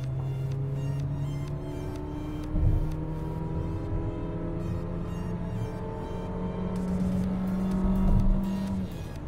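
A Peugeot 5008 engine revs hard under kick-down acceleration, pitch climbing steadily through the gears with brief dips at each shift, a continuous loud drone heard from inside the car.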